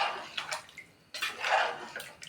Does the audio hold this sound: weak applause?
no